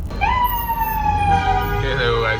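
A police vehicle siren sounds in Mexico City traffic near the Grand Prix circuit, holding a steady, fairly loud wail that wavers toward the end over a low rumble of traffic.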